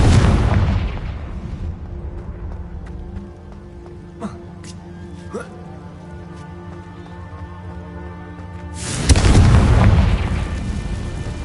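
Confringo blasting spell explosions in a wizard video game: a heavy booming blast at the start, quieter stretch with faint sharp cracks, then another loud rumbling explosion near the end.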